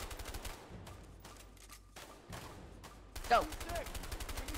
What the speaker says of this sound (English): You gotta move fast when I start shooting.